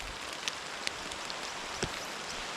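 Steady rain falls during a heavy downpour, a soft even hiss with a few faint drips, distant and quiet with no voices.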